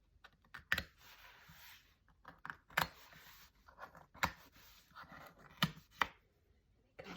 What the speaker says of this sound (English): I'll just cut the threads on here.